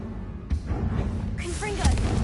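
A Confringo fire blast spell cast in Hogwarts Legacy, heard as a short burst of booming, crackling whooshes with a second hit near the end, layered over game ambience.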